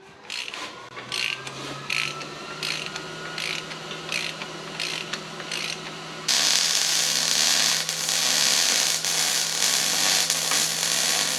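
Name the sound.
ratchet tightening differential bearing caps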